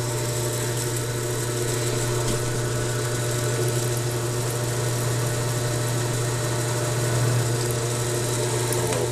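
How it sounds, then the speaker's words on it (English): A drill press boring a center hole into a steel gunsmithing receiver holding fixture, heard as a steady, loud motor hum with a strong low drone and broadband grinding that continues evenly throughout, with no speech. "I will drill my hole, drill my center hole"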